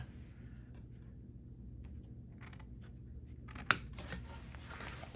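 Snips cut through copper sheet while a copper door pan is being made, giving one sharp, close snip over a quiet, steady room hum.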